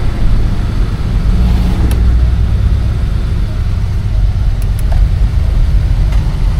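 A 1970 Oldsmobile Cutlass driving on the road, heard from inside as a loud, steady low engine drone and road rumble throughout, with a few faint clicks.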